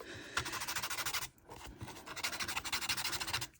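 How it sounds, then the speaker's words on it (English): A blending stump rubbed back and forth on 220 grit sandpaper, giving two runs of quick, close rasping strokes with a brief pause between them. "This is 220 grit sandpaper. It's what I use to clean my blending stumps and tortillas."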